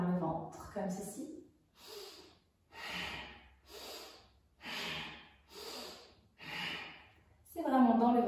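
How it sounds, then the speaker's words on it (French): Bhastrika abdominal yoga breathing, forceful rhythmic breaths driven from the belly: about six strong, evenly spaced whooshing exhalations, close and alone, with brief talk at the start and end. "un Bhastrika abdominal c'est une respiration qui se fait par le ventre comme ceci."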